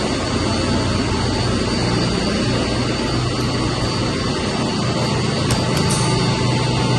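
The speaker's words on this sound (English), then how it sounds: "Let's start a chiller." A York industrial chiller starting up after a lightning storm outage, a loud, steady, broadband roar filling the room without letup, with no one talking.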